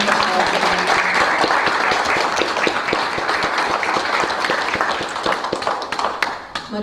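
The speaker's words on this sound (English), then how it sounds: "if you don't mind joining me in just a great round of applause" Audience at a Sunday meditation and celebration service breaking into a sustained round of applause, many hands clapping densely and evenly, fairly close, tapering slightly toward the end.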